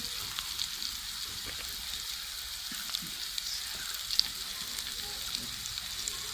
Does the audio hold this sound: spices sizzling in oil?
yes